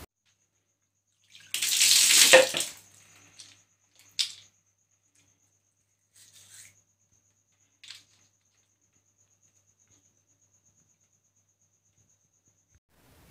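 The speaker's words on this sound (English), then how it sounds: "After breakfast, I wash my face and brush my teeth." Tap water runs briefly into a sink during face washing and tooth brushing, a short hissing gush followed by faint splashes and scattered small bathroom noises in an otherwise quiet room.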